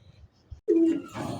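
A caged pigeon gives a single short, close coo after a few soft rustles, with a quieter murmur of birds trailing after it.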